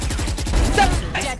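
Rapid bursts of AK rifle fire in a video game shooter, a quick stuttering string of shots over a low rumble, loud and close, with brief speech underneath.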